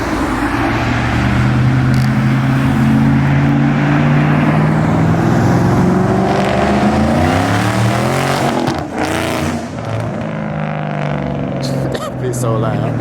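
A Ford Shelby GT500 revving hard and loud, its engine note rising and falling with strong harmonics as it accelerates past, with people talking over the roar.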